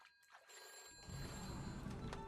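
Telephone ringing in the video game What Remains of Edith Finch, a steady ringing tone layered over a busy game background, fairly faint.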